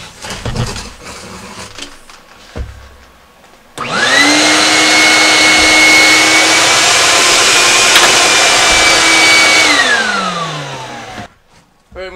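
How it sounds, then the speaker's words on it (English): Vacuum cleaner sucking standing water out of a mortar-bed shower pan in a skoolie bus shower build: a loud, steady whining roar starts abruptly, holds for about six seconds, then winds down, with faint handling noise before it. "I'm going to vacuum the water out of here now and then check for leaks"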